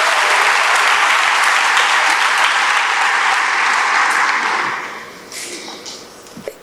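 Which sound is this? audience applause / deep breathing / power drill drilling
audience applause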